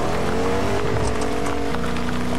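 A vehicle driven in a video game, a loud continuous engine drone with a steady hum and faint squeal across the whole brief stretch, alone with no talk.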